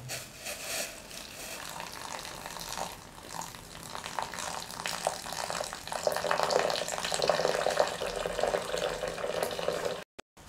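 Hot water is poured steadily onto washed, cracked rice pasta (ada) in a kitchen, a continuous splashing stream that grows slightly louder before stopping abruptly.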